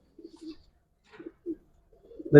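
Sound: Giribaz silver pigeon cooing

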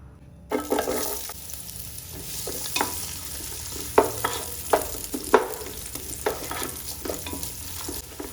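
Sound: onions frying in a little oil

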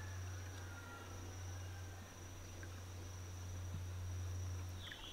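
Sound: crickets chirping

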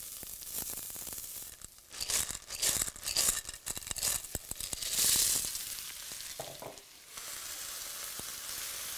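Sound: periwinkles, garlic and onion sizzling in a hot dutch oven

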